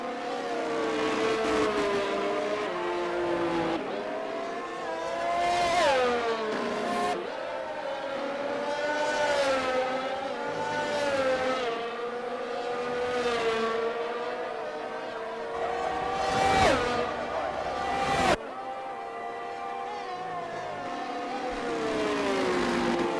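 Formula One cars race in a video game at the 2000 Hungarian Grand Prix, their high-pitched engine whine rising and falling steadily through gear changes, with a few sharp surges and no one talking.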